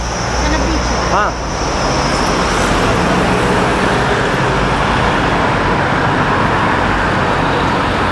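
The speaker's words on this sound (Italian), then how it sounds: "C'è pure l'autobus aperto là, vedi, che fa il giro di Londra." Open-top sightseeing bus moving in busy London traffic, a loud, close, continuous road roar of engines and tyres, with people talking nearby.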